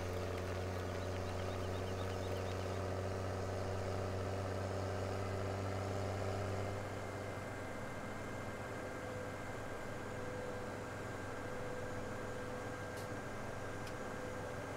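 Tractor engine idling and running in the farming game Farming Simulator 17 on the Emerald Coast map, a steady low droning hum with a tonal whine that shifts partway through, continuous and fairly close with no talk.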